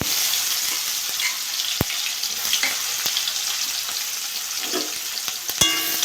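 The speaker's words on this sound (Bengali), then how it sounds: "পেঁয়াজটা একটু ভাজা ভাজা করে নিয়েছি" Two chopped onions fry in oil with whole cumin, a dense continuous sizzle close by, broken by a few sharp spoon clicks and scrapes of stirring, with no voices.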